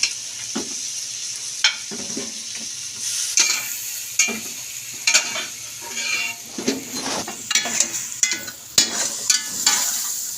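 Tender mutton for palak gosht is fried and stirred in a pot, with repeated scraping spoon strokes and clanks over a continuous close sizzle and no talking.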